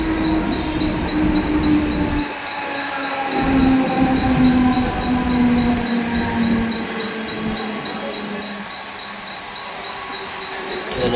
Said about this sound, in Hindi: चलो मेरी ट्रेन आ गई